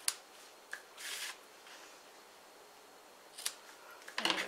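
Scissors trimming paper bow pieces for a handmade card: a few close, soft snips and papery rustles, quiet, with a louder crinkly cut near the end.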